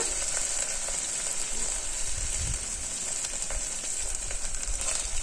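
Mint being stirred into dal rice (khichdi) in a cooking pot: a steady, close bubbling sizzle with soft scraping stir sounds running throughout.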